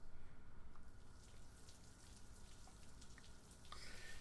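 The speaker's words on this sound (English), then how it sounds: "Rainy day outside" Steady rain falls outside in the video game Necrobarista, a continuous soft wash with scattered faint drips over a low background hum, no voices.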